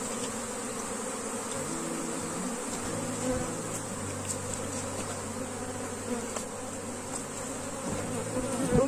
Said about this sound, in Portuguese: Esse enxame foi recém-capturado.